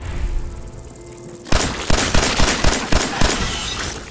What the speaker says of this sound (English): Did I shoot Codsworth? I think I might have